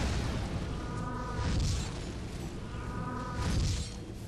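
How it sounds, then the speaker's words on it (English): Cannon fire and explosions in the video game Warhammer: Mark of Chaos, with two broad booming bursts about two seconds apart over a dense rumbling battle din. "Oh, there goes the cannon."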